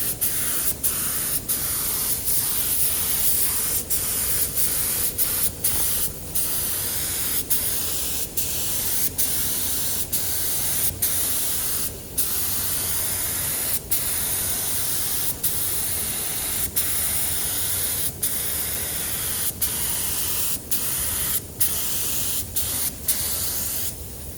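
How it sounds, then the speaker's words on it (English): Spray paint hisses onto car fenders in a long run of short bursts separated by brief gaps, close and loud, with no talking. "It sounds like spray."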